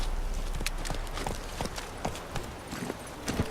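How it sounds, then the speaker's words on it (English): A horse's hooves clip-clop in a quick, uneven galloping rhythm in The Witcher 3 video game. The hoofbeats sound moderately close over a constant background ambience. "I'm gonna call the horse."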